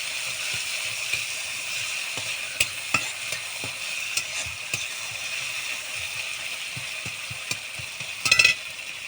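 Green chili, garlic and mustard paste fry in hot oil and are stirred, with a continuous hiss, scattered small scraping clicks and a brief louder rattle near the end.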